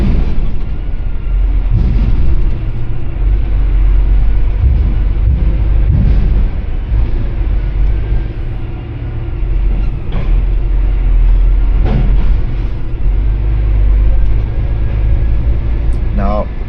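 Eurotunnel shuttle train moving through the tunnel, a steady loud low rumble that runs unbroken throughout, with faint rattles and occasional clunks over it.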